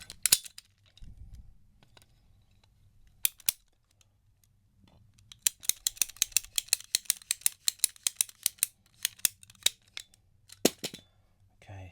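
Scissors cut open a golf ball recovered from a lake, producing a rapid run of sharp crisp snips and clicks close to the mic, with a few isolated snaps beforehand.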